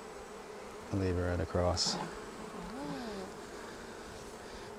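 Honey bees buzz steadily around an opened hive while a hive tool is worked between frames, a close, continuous drone with a person briefly talking over it.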